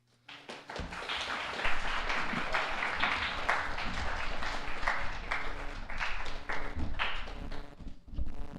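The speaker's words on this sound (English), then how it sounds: "Let's give him another round of applause." School morning assembly audience applauding a speaker, a steady dense run of claps with some sharp individual taps and thumps, sustained for several seconds after a brief quiet start.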